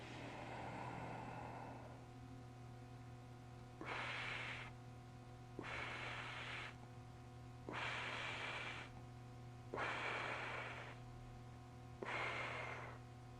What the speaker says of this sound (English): And once more, inhale.